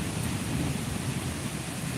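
Steady, dense rain hisses without a break, a constant wash of falling water that fills the space, with no voices.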